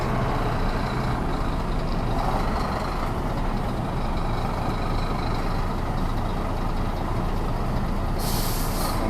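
A heavy truck manoeuvres in reverse, its engine rumbling steadily and close, with a sharp burst of air-brake hiss near the end and no voices.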